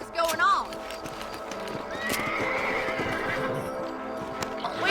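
Horses in the Red Dead Redemption video game whinny and clip-clop along at a steady pace, with a loud neigh near the start and hoofbeats continuing under the ongoing sound.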